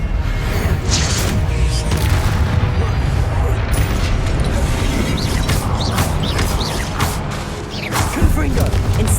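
Spell-casting blasts in the PC game Hogwarts Legacy, a dense run of booming impacts, thuds and bursts over a low rumble, with a voice calling out spells between them.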